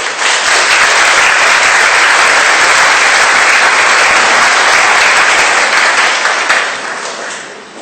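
A church congregation claps to welcome a couple to the front, a loud, sustained burst of applause from many people that carries on steadily before tapering off near the end.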